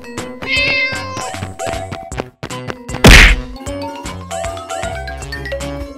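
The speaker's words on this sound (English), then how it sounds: "Cat." A cat meows several times, loud and close, in a game-like setting with a sharp whack partway through and tinkling tones around it.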